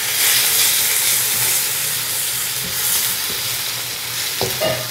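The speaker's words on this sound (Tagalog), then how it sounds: "Gisa-gisahin muna natin para mas malasa." Garlic and ginger sauté in a hot pan with a loud, continuous sizzle and hiss, with occasional stirring clinks near the end.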